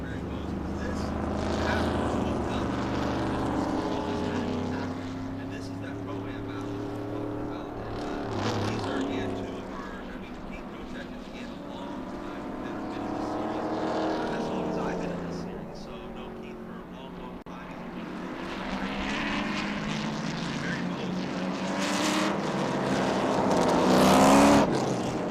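Race cars circulating at Road Atlanta during SpeedTour, engines swelling and fading as they pass, with commentators talking over them throughout.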